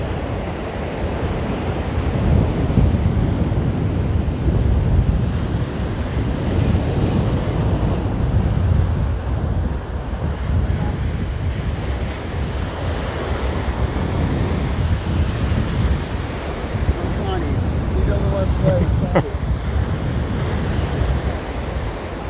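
Choppy ocean surf rolls in continuously at Waimanalo Beach, Hawaii, a loud, broad wash of breaking waves mixed with gusty wind rumbling against the microphone throughout, with no voices.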